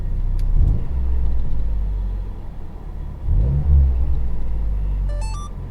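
A 2012 Mazdaspeed 3 fitted with new motor mounts drives along with a loud, steady low engine rumble and road noise, swelling briefly as it accelerates; a short electronic chime sounds near the end.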